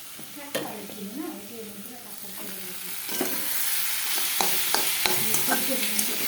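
Eggplant and potato fry with onion in a pan, starting with a few clinks and stirring scrapes, then settling into a steady, close sizzle with occasional utensil taps.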